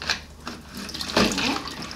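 Water sloshing and dripping as a mop is wrung out in a bucket of cleaning water, a continuous watery swish that swells in the middle and trails off.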